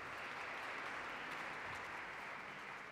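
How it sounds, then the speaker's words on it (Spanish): An evening audience in Washington DC applauds to welcome an ambassador: a continuous, even wash of clapping from a sizable crowd, steady and moderately distant, with no voices over it. "Un aplauso, por favor."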